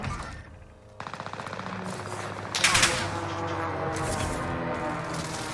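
Video game gunfire rattles in rapid automatic bursts at a steady rhythm, loud and continuous after a brief lull, with game effects mixed in.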